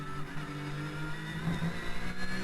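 Porsche Carrera Cup racing car at Fuji pulling onto the long front straight, the onboard engine note holding a steady pitch then rising as the throttle opens, loud and close with no talk.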